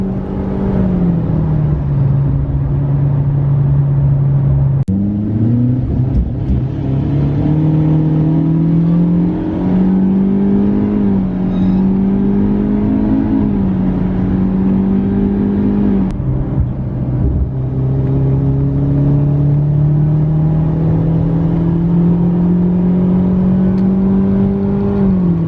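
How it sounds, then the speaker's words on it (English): A turbocharged Mitsubishi Lancer engine revs at full throttle and bogs around 3500 RPM. Its loud, close, droning roar climbs in pitch, drops back and climbs again, with no voices. "So 3500 is where it's bogging. Full throttle."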